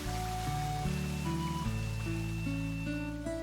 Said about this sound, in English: Some pretty water sounds.